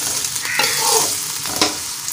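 Okra frying in a pan with a steady close sizzle, with a few stirring scrapes over the crackle.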